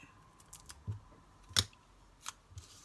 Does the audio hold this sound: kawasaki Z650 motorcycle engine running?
no